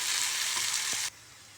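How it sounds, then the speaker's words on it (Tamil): Raw plantain frying in coconut oil over a low flame, a steady loud sizzle with a brief stirring scrape near the end before the frying noise drops away abruptly. "லோ ஃப்ளேமில் வச்சு நல்லா பொறுமையாக கிளறி விடணும்"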